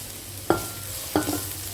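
Cubed elephant foot yam coated in masala being fried dry in a pan, heard as two sharp stirring scrapes against a low steady sizzle, with no talking.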